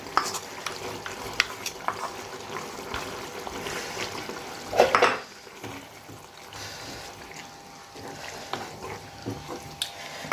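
Masala with peanut and sesame paste being stirred in a pan for a bitter gourd curry: soft scraping and stirring with a faint sizzle, a louder clatter of utensil against pan midway, then quieter stirring.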